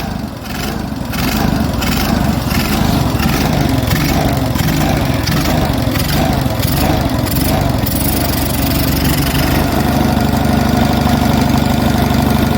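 An Onan US military generator engine runs loud and close with a rough, knocking mechanical drone, revved by hand against its governor, steady throughout with slight shifts in pitch near the end.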